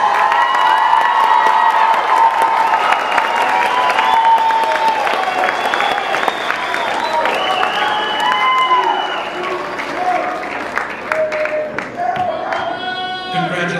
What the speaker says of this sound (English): One more time, families, let's give them a huge round of applause.